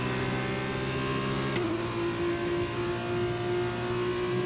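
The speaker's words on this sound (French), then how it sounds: "je trouve que les bruitages des moteurs sont assez convaincants" F1 2021 racing car engine on PS5, a continuous high-revving whine with a sudden gear shift partway through, then steady acceleration, loud and close with no talking.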